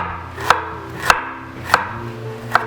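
A kitchen knife cuts slices from a piece of tough fresh ginger on a cutting board, four crisp evenly spaced chops over a low background hum, with no talking.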